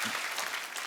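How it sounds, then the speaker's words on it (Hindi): A brief burst of steady studio audience applause for a Punjabi guest singer on a comedy show, with no talking over it. "इनके लिए जोरदार तालियां"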